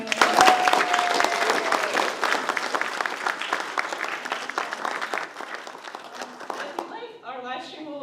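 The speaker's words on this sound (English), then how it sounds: "So round of applause for our amazing panel." A live audience applauds a youth acrobatics and new circus arts panel in Seattle, dense steady clapping that holds for several seconds before thinning out, with voices emerging at the end.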